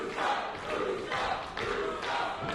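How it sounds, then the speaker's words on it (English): A live pro wrestling event crowd roars and shouts in loud continuous surges, swelling in waves after a suplex, with no clear talk over it. "Listen to this crowd."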